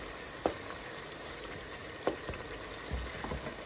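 Onions fry in a pan while chana is cooked for a school Eid party, with a soft, steady sizzle. A few sharp utensil knocks and scrapes break through it, and no one speaks.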